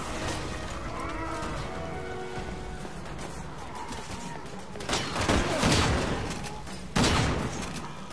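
Gunfire in the Resident Evil 6 video game crackles in scattered volleys over constant background noise, with louder blasts toward the end, and players talk at moments.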